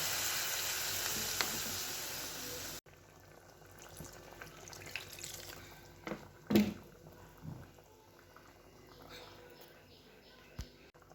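Water poured into sizzling spiced masala in a pan: a loud frying hiss first, then it drops to a quieter bubbling with scattered clinks and splashes, close by.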